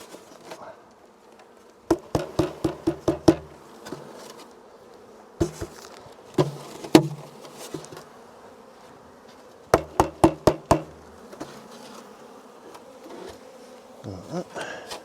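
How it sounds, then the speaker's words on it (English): Honey bees buzz in a continuous low hum as they are shaken into a hive, broken by clusters of sharp knocks and taps that come in quick bursts of four or five. "Shake the bees in."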